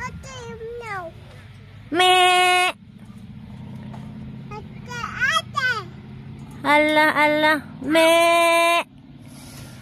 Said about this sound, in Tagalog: Halo sila kambing tsaka tupa.